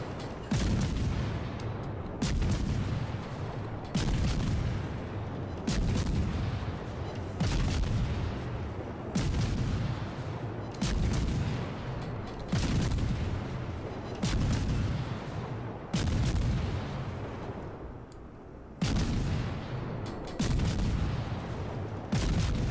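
Heavy naval gun salvos from a French destroyer Mogador in World of Warships boom in a steady repeating rhythm, roughly every two seconds, each a loud low blast with rumbling tail, close and dominant throughout.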